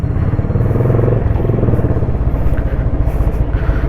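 A motorcycle called the Mammoth drones steadily throughout a ride, its engine a close, continuous rumble with a rough, buzzing texture.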